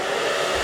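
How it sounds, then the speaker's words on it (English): Hair dryer blowing steadily on lace wig glue, a loud, close, continuous rush of air with no talk. "And then blow dry some more."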